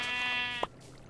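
A sheep bleats in Minecraft: a single drawn-out bleat, then a short thud as it stops, leaving quiet ambience.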